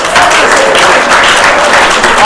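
Loud, dense audience applause fills a room at the Tom Hendry Awards, a Canadian playwrights' ceremony. It is continuous and close, a steady roar of many hands clapping, with a little crowd noise mixed in.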